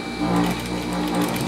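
A sewing machine stitching a dress, running in one steady close whirring hum with a fast mechanical rhythm that lasts the whole short stretch.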